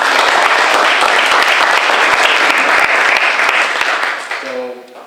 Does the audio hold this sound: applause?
yes